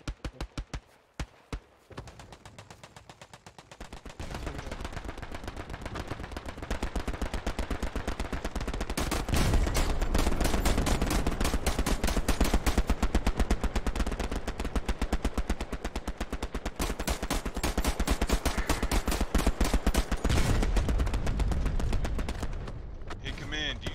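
Heavy gunfire from the World War II shooter Hell Let Loose: a few isolated shots, then a sustained, dense barrage of rapid machine-gun bursts and rifle fire, loud and continuous for most of the stretch.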